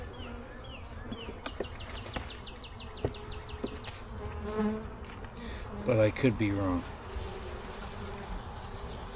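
Honeybees hum steadily around an opened beehive during an early spring inspection, a close, even drone with occasional louder passes near the ear, while someone speaks briefly over it.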